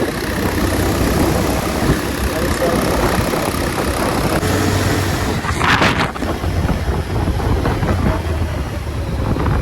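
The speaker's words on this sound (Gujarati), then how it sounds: "જયભાઈ પણ બીજું બાઈક લઈને આવ્યો હતો પલ્સર લઈને આવ્યો" A Bajaj Pulsar motorcycle engine idles steadily close by, a continuous low rumble with wind buffeting the microphone and a brief rattling burst midway.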